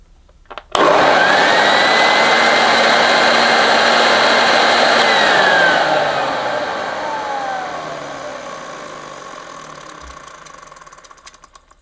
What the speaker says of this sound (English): That motor sounds okay-ish, you know.